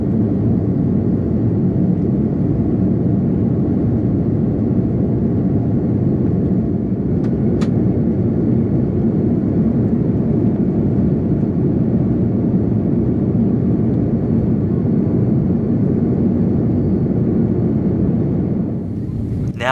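Qantas Airbus A330 taking off from the runway, heard from inside the cabin as a loud, steady engine roar and rumble that holds evenly throughout, with a brief click partway through.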